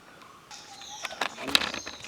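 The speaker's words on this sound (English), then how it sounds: "the birds chirping here are damn awesome" Birds chirp in a Coorg plantation, thin high calls scattered over a couple of seconds against a quiet background, with a few brief sharper rustles mixed in.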